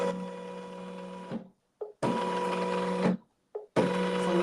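An embroidery machine stitches out a design in steady, loud whirring bursts, each running about a second and a half and then stopping abruptly, with brief mechanical clicks and pauses between the runs.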